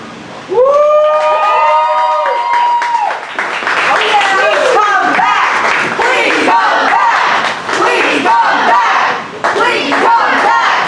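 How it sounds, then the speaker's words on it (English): Loud crowd cheering, whooping and applause at a poetry slam open mic, beginning with long sung or shouted vocal tones from the audience and swelling into continuous clapping and hollering. "And a round of applause!"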